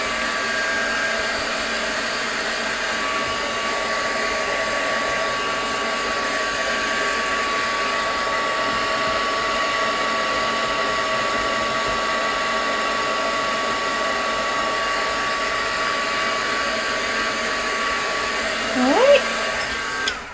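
Heat dryer blowing over sprayed pigment on lace during a craft session, a steady close whirring hum with a constant tone that runs unbroken, ending in a brief louder knock.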